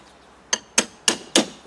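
A hammer strikes a dismantling tool four times in quick succession to pry loose trim on a Land Rover Defender door, each knock short, sharp and close, with no voices.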